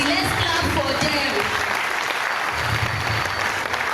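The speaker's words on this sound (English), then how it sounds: "Please, let's put our hands together for them. Let's clap for them." Audience clapping fills the hall at a youth leaders summit in Southern Kaduna, a dense, steady applause lasting throughout with a faint murmur of voices beneath it.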